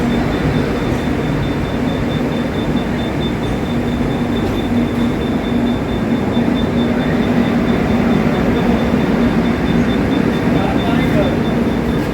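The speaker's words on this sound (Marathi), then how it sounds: "ही जी ट्रेन दिसते ती आहे सौराष्ट्र एक्सप्रेस" Steady, loud rumbling roar of the Saurashtra Express train moving along the tracks, continuous throughout with a faint tonal hum and no break.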